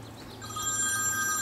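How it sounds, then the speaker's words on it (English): An iPhone rings as a call comes in from a Samsung Rugby smartphone that was just dunked in a pool; a thin electronic ringtone rises and holds steadily, faint and alone with no talk. "It's ringing."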